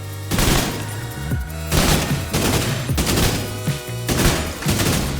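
Heavy automatic gunfire with hollow point rounds in an online shooter game, loud dense bursts of shots coming in repeated waves with brief lulls between them.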